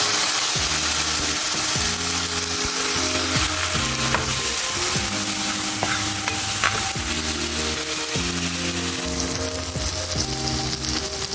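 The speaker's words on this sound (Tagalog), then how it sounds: "Lutuin lang natin maigi yung kamatis" Tomatoes frying with garlic in a pan give a steady loud sizzle, with repeated scraping stirs and a musical background tune running throughout.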